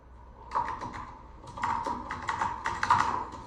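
Code is typed on a computer keyboard in quick bursts of close, crisp key clicks, separated by short pauses, with no talking.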